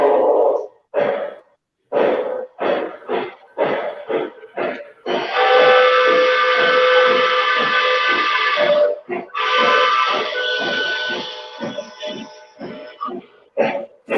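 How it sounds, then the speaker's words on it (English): A model train steam locomotive, a scale cab forward with LC2.0 sound, chuffs in rapid rhythmic bursts, then sounds two long, sustained whistle blasts before the chuffing carries on. "The whistle is actually the same as the last one of the scale legacy cab forwards that they did."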